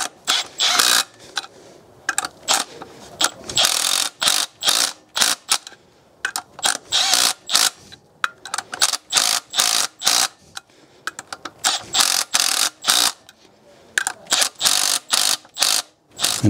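A ratchet tightens the flywheel bolts on a BMW during a clutch and flywheel replacement, loud close bursts of rapid clicking repeated in short runs with brief pauses between them, no talking.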